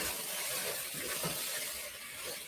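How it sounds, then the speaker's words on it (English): Spaghetti fries in a pan with a steady, even sizzle and hiss that stays close and moderately faint throughout, with no talking. "Are you frying your spaghetti, girl?"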